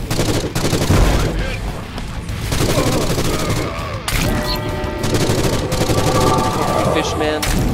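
Player's gun firing in the horror shooter Forgive Me Father, with repeated heavy booming shots and bursts, some rapid and some spaced, loud and close, mixed with game effects and someone talking over them.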